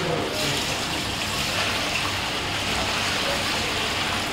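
Water pours in a steady, loud rush into a large pot for bulk-cooked Arabian majboos, a continuous splashing flow lasting several seconds with faint voices in the background.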